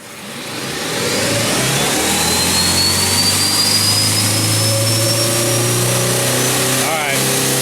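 An electric car accelerates hard at about half throttle, a rising motor whine sweeping upward in pitch over a steady low drone, loud and close, building smoothly for several seconds.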